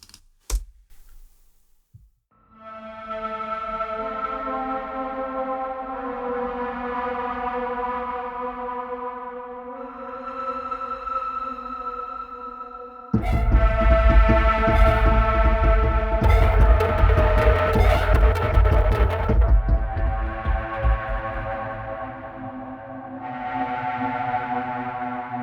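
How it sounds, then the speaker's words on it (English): Spooky synth section of a musical composition: sustained, layered electronic tones swell and shift, then a denser, harsher band of sound enters midway before easing back to softer held chords, with no voices. "So as you can hear, it's quite a spooky bit of audio."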